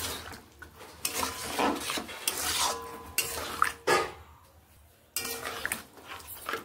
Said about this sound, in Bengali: জলের সঙ্গে মিশিয়ে নেড়ে নিচ্ছি।